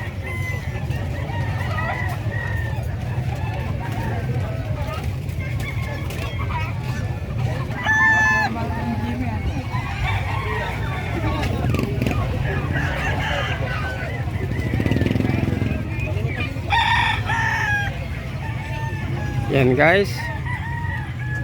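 Roosters and gamecocks crow and cluck at the San Carlos City livestock market, with several loud crows rising over a steady din of poultry while someone talks nearby.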